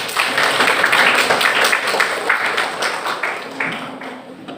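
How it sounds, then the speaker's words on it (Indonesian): Audience applause in an Indonesian university teacher-training session, a brief burst of clapping from a group in a room that gradually thins and fades toward the end. "Tepuk tangan untuk kalian semuanya dulu."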